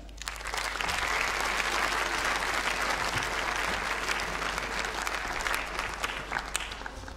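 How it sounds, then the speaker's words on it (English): A large audience at a graduation ceremony claps steadily for the new graduates. The sustained applause fills the hall and tapers off slightly toward the end. "I'd like us all now to join a great round of applause for our new graduates."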